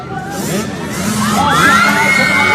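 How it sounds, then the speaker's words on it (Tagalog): A crowd of spectators at a roadside race shouts and cheers loudly as a runner passes, excited children's voices and whoops swelling and rising toward the end. "Sigawan talaga bawat daan ni Zaira oh"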